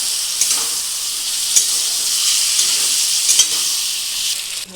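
Ginger-garlic paste sizzles steadily in a hot pan for a shrimp and pointed gourd dish, a continuous close frying hiss broken by a few soft scrapes of stirring.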